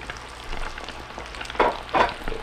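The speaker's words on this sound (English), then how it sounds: "Fish on the fryer." Fish frying in hot oil in a fryer outdoors, with a steady crackling sizzle and two louder bursts of bubbling partway through, close and with no talk.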